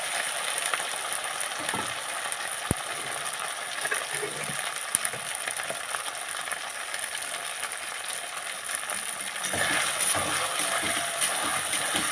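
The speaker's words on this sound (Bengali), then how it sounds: "আদা রসুন মশলার উপর ভালো করে ভাজা হয়ে গেছে" Continuous soft sizzling of ginger-garlic masala paste frying in a pan, with occasional stirring clicks and a brief louder burst of spattering near the end.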